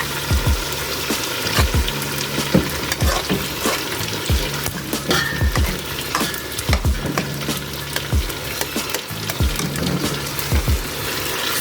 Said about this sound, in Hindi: हलवे में आप साथ साथ थोड़ा चलाते रहेंगे।